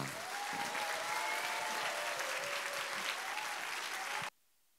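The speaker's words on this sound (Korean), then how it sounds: "나오실 때 박수로 우리 환영하도록 하겠습니다" A church congregation claps steadily in welcome for a visiting pastor at an autumn revival service, a dense sustained applause filling the room before cutting off abruptly.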